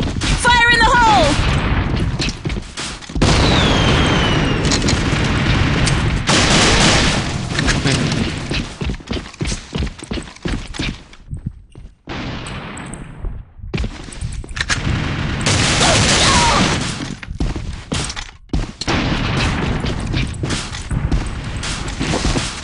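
Dense gunfire and explosion booms fill a round of the online shooter AVA, with rapid bursts of automatic fire, heavy blasts and continuous battle noise from start to end, and voices calling out over it.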